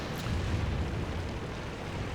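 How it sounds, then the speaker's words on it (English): Artillery shell blast in a tank battle video game, heard as a dense, sustained low rumble of explosion with a brief higher pop near the start, steady and loud throughout. "There's another shell from my artillery buddies here."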